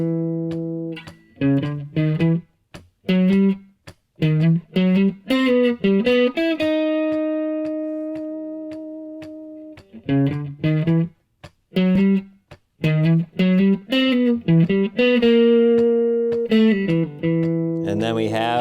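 A theme melody on electric guitar: sneaky staccato picked phrases broken by pauses, with a few long sustained notes ringing out, close and clear with no talk.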